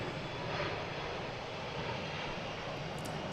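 Delta Embraer 170 regional jet landing at Logan Airport, a steady distant roar of jet engines rumbling continuously at moderate level, heard outdoors with no talking.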